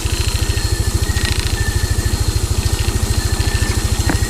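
A motorcycle engine idling at night, a steady, loud, rapid low thumping pulse that holds an even rhythm throughout, with faint background hiss.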